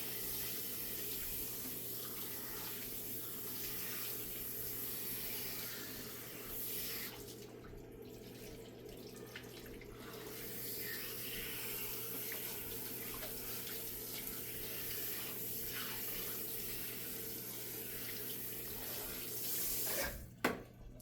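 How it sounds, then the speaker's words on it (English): Water runs from a salon tap while conditioner is rinsed out of hair, a steady close gushing stream that dips briefly midway and ends with a few clunks and splashes, with no talking. "Cup the ears again, and I rinse the conditioner off."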